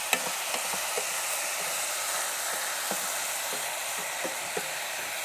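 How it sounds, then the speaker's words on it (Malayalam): Sliced onions with a little ginger and salt fry in a pan for a Kerala-style onion dish, making a continuous, even sizzle with soft, regular knocks as the spoon stirs. "എന്നിട്ട് നമുക്കിനി ഇളക്കാം."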